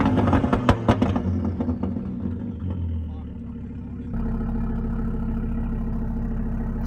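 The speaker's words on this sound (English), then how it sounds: "The sound of the 5-cylinder is nuts. We need to get it some revs." An Audi TTS Mark 3 with a five-cylinder engine at a car meet revs hard in a few sharp bursts, then settles into a steady, close, droning idle, with people talking nearby.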